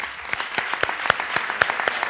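Applause from the audience at the official closing of the Third Congress of Social Work in Aragón, Zaragoza: a brief, steady patter of many hands with a few sharper individual claps standing out.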